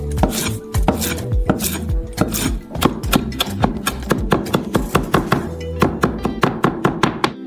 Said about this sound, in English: Now finally chop some mint.